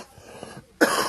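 A single loud, sharp cough bursts out after a moment of near quiet, close to the microphone.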